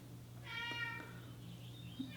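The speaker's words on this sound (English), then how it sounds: "do you hear the cat in the background?" A cat lets out a single faint, drawn-out meow in the background against a low steady hum, with no voices.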